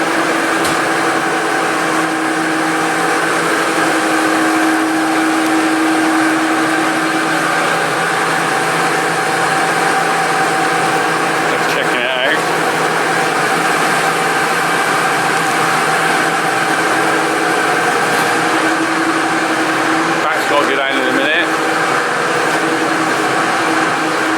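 Steady engine drone of a tractor at work on a barley harvest in Gloucestershire, a constant close hum that runs unbroken throughout with brief mechanical clicks.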